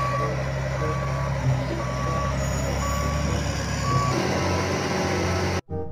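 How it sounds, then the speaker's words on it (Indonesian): A sand truck reverses with a steady series of loud, regularly spaced backup beeps over its running engine, continuous and near, with a brief cutoff just before the end. "kalau yang ini truk pasir teman-teman"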